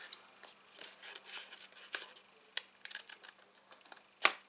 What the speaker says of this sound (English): We're going to trim this across there now